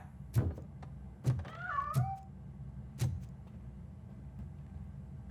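A cat meows in RoboCop: Rogue City, a few short rising-and-falling mewing calls standing out between several dull thunks, fairly close and clear with no talking.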